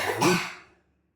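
A single harsh cough burst after eating KFC chicken, close and fairly loud, trailing off into silence after under a second.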